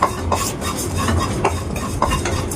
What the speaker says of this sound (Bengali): এগুলোকে আমি শুকনো খলায় খারিক্ষণ নেড়ে নেব